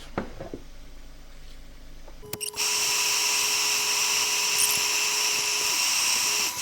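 A wooden wig stand spins on a woodturning lathe while being sanded. After a few quiet seconds and a brief clunk, a steady loud whirring hiss sets in and holds evenly to the end.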